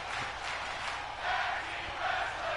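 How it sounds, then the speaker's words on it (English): A tag team wrestling crowd chants in rhythmic swells, a broad roar of many voices rising and falling at moderate loudness across the arena. "You hear the crowd chanting tag team wrestling."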